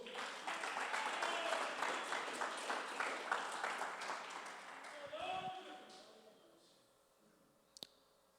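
A church congregation claps loudly and rhythmically during a sermon, then the applause fades out, followed by a single sharp click near the end.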